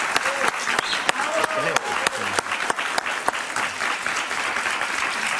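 A television studio audience applauds a guest, Iván Duque, with loud, sustained clapping throughout and a voice speaking over it.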